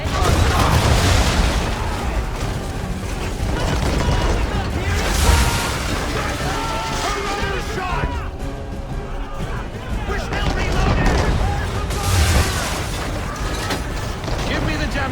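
Ship cannons boom in a naval battle in Assassin's Creed III at Chesapeake Bay, heavy loud blasts recurring every few seconds over rumbling, with crew voices shouting orders throughout.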